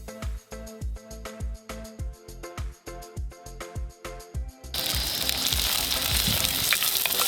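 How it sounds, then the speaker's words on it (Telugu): Dry prawns frying in hot oil, a loud, dense sizzle that bursts in suddenly after nearly five seconds of rhythmic music and keeps going steadily to the end. "ఆయిల్ వేడెక్కింది ఆయిల్లో ఇవన్నీ వేసేద్దాం"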